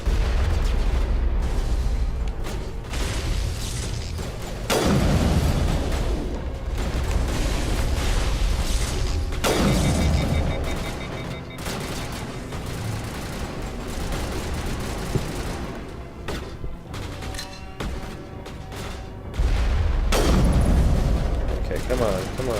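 Sniper rifle fire from the video game Mass Effect: several loud heavy booming shots spaced apart over a busy game soundscape, with a voice talking throughout.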